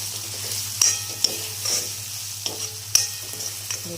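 Chopped ridge gourd (turiya) hits hot oil in a pan and sizzles steadily, with a few sharp clinks and scrapes of a spoon stirring it.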